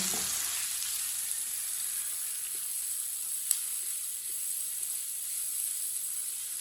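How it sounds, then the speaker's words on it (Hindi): Spices frying in a pan over a lowered flame make a steady, fairly quiet sizzle and hiss, with the occasional light scrape of a stirring spoon and no voices. "अब 2 मिनट के लिए पका लेंगे मसालों को। इसे चम्मच चलाते हुए पकाना, नहीं तो मसाले जल जाएंगे।"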